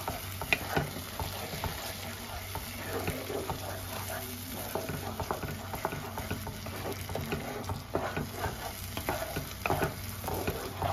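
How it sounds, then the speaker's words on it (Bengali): Cashew paste and a splash of water are stirred into a masala frying in a pan: a busy, close sizzle and bubbling with rapid, repeated scraping strokes of the spoon throughout. "এবার ভালো করে মিক্স করে নেব।"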